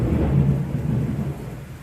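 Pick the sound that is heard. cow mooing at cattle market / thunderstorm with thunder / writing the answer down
thunderstorm with thunder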